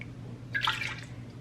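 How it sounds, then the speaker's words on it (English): Tomato soup ladled back into a rinsed pot, a brief soft splash and drip of liquid in the middle of an otherwise quiet moment. "I'm gonna just ladle the soup back in here."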